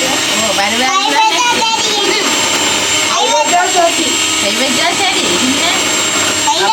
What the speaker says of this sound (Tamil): இப்படியே விடாம அடிச்சு கொண்டே இருக்கணும்